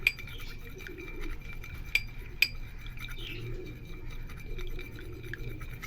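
A honey face pack mixture is stirred in a glass bowl. A spoon gives a few bright clinks against the glass over a soft, steady scraping, close by and without talking.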